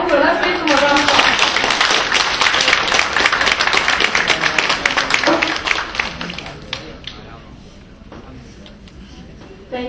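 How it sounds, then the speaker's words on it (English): Audience applause for a panel of parents, a teenager and a moderator at a parent-child education club's annual meeting, dense clapping for about six seconds, then thinning out and fading, with a few scattered claps at the end. "Let's give them a round of applause."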